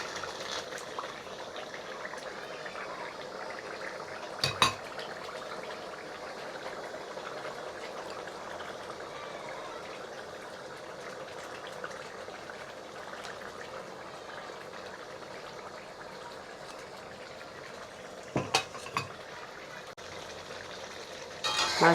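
Pieces of rui fish fry in oil in a pan with a soft, continuous sizzle and bubbling. A few sharp clatters from utensils come through close by.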